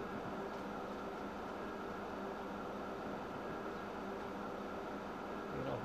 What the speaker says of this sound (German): Wenn der gefahren ist, setzt man noch einen zweiten Zug drauf